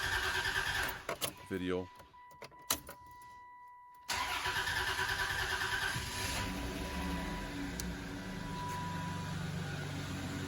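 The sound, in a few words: Dodge Intrepid car engine starting after fuel filter installation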